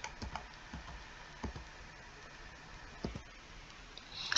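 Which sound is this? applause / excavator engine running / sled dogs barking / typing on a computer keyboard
typing on a computer keyboard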